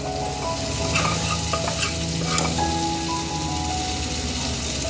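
A pasta mixture is stirred in a hot pan right after milk is added, making a loud continuous bubbling sizzle with scraping stirring sounds throughout and no talking.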